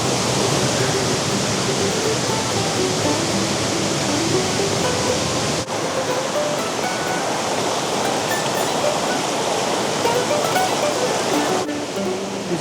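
A waterfall on a Tennessee brook trout stream roars as a loud, continuous broadband rush of falling water, steady throughout with no other sounds standing out.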